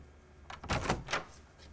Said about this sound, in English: We are at the front door now. We will enter the house